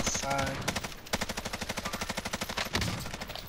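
Rapid gunfire in a video game battle royale match, a dense, loud train of repeated shots lasting several seconds, with bursts close together and no talk over it.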